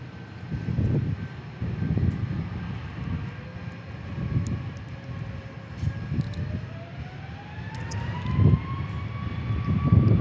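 A plane passes at Dallas Love Field with a roaring engine rumble that swells and fades in waves, plus a rising whine, steady and fairly loud outdoors.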